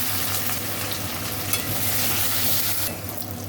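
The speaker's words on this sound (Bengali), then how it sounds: "তো দেখুন, তেল গরম হয়ে গেছে। এবার প্রথমে দিয়ে দেবো আদা রসুন কুচিটা দিয়ে দেবো।" Chopped ginger and garlic sizzle steadily in hot oil in a pan, a loud, close, continuous frying hiss with occasional stirring and no talking.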